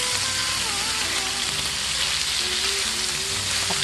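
Liver stir-frying with garlic and chili in a hot pan gives a steady, loud, close sizzle throughout, with no talking.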